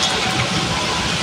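Heavy rain pours down in a dense, steady hiss that stays loud and unbroken throughout the short stretch.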